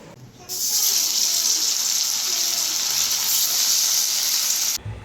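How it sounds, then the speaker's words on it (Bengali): A loud, steady hiss of fish frying in hot oil in a wok starts abruptly and continues without a break before cutting off at the end. "তেল মনে হয় গরম হয়ে গেছে, এখন এটা কড়াইতে গিয়ে ছাড়বো।"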